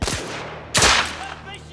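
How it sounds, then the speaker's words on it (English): Two sharp, loud pistol shots from a Luger in the video game The Order 1886, the first at the very start and the second near the middle, each followed by a short echoing tail. "finally we get to fire a weapon. Ooh, just our little Luger's pistol."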